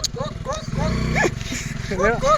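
A dog barks several times in short bursts, mixed in with people talking nearby throughout.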